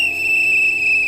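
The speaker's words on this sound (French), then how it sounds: "Il faut donner un coup de sifflet" A steady, shrill whistle tone inside a horror video game set in a forest with the Rake creature, held continuously and fairly loud for about a second over a quiet ambient background, with no talking.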